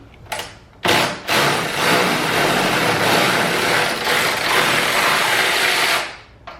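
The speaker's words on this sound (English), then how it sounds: "Alright, go ahead and get this taken out, this old bolt. Make sure it's loose." A powered ratchet loosens an old rusty bolt on a Honda sedan. After a brief blip comes one loud, close, sustained whirring burst lasting about five seconds.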